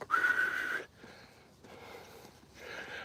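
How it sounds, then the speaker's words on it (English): A single clear whistled note rings out close by, followed by fainter, breathy whistling and soft background hiss. "It starts off with whistling."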